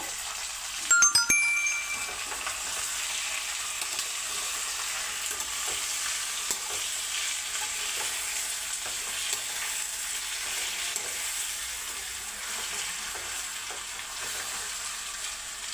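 Beef roast is stirred with added water in a pan, giving steady close scraping and a soft sizzle throughout, with a brief clatter near the start.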